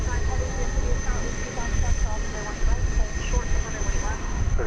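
Airliner on the Sydney flight rolling down the runway at DFW Airport, a loud sustained engine roar with a steady high whine, a voice talking over it.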